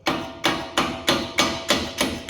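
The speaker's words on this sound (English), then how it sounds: "then we take a hammer," Hammer blows strike the brake parts of a LADA NIVA during a brake pad replacement, seven loud, evenly spaced metallic knocks each ringing briefly before the next.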